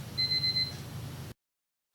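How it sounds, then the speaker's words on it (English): An alarm beeps in a quick, steady pulsing pattern for under a second, in a room with a low hum, then the sound cuts to silence. "let me go take care of that alarm real quick."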